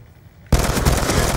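Sustained automatic machine gun fire in a multiplayer shooter match, bursting in loud and close partway through and continuing as a dense rattling stream to the end.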